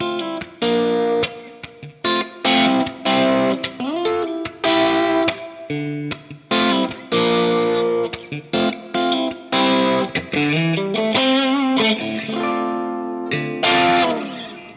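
An electric guitar with Fender Texas Special pickups in the second pickup position plays a run of bright, nasal, slightly quacky chords and single notes, loud and close with no talking.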